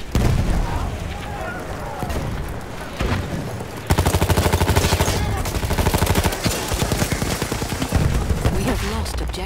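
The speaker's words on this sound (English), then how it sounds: "Enemy machine gun over there." Rapid bursts of automatic gunfire from an enemy machine gun in Battlefield 1 on a hardcore match, close and loud, mixed with booms and battle noise, with voices in the background.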